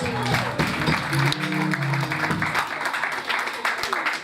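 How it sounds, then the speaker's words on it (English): A church congregation claps together in steady applause, a moderately loud and continuous patter of many hands with voices mixed in underneath. "If you're happy, a round of applause for Jesus."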